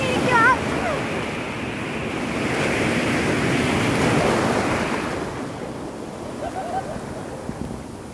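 Sea waves breaking on a clean beach at Varkala, a steady wash of surf swelling and easing with wind noise on the microphone, fairly close, with no talking.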